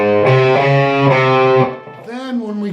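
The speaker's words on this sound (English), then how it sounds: "we're going to go through the D lick and the A lick once" Distorted electric guitar plays a riff built on a D lick and an A lick, sustained, loud chords with effects, ringing for about one and a half seconds before a softer, wavering bent phrase follows.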